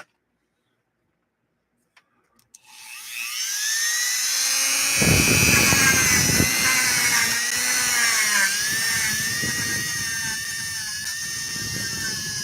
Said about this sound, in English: we're going to go after it now with the Dremel and just kind of clean that little section up